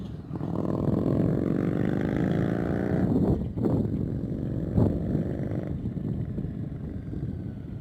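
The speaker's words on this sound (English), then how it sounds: "just got to keep those revs up before we start our turn" An engine held at high revs drones steadily and loudly with a gritty rumble, easing off briefly twice before climbing back to a sustained roar; no one speaks.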